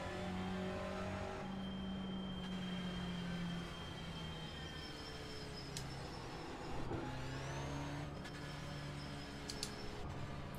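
Racing-game in-car engine of an IMSA Pilot Challenge touring car at Knockhill: a steady, loud droning engine note that holds and shifts pitch with speed, with no talking.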